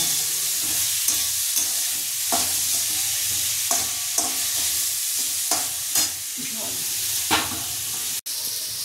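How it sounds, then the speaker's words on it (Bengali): Constant sizzling of papaya frying in a pan for chutney, punctuated by repeated scraping strokes of a spoon stirring it, close and fairly loud. "অল্প নাড়াচাড়া করব।"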